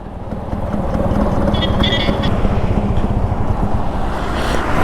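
A carburetor-type scooter engine idles on its side stand, a continuous close low rumble with slight wind noise over it.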